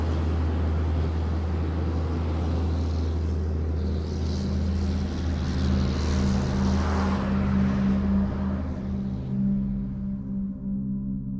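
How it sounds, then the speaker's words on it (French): A crop-spraying airplane passes low over a Brazilian soybean field, spreading a yellow product. Its loud, steady engine drone holds throughout and fades toward the end. "Soudain, un avion passe en rase-motte, épandant un produit jaune sur le champ de soja."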